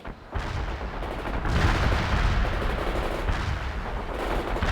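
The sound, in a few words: gunfire and artillery fire in World in Conflict video game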